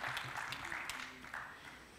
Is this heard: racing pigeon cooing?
no